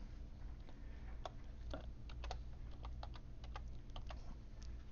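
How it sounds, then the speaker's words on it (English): Someone types on a computer keyboard while entering a table in Excel: soft, irregular key clicks in short clusters over a steady low hum, fairly quiet and with no voice. "So on here we're going to type years."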